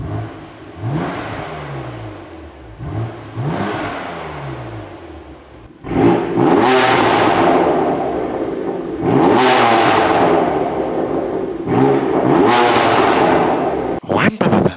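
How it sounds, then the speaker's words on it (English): A stage 2 tuned BMW S55 engine in an M car revs repeatedly with its exhaust valves shut, loud close blips rising and falling in several bursts, the later revs fuller and sharper. "I'm going to show you some revs with the valve shut first before the valves open."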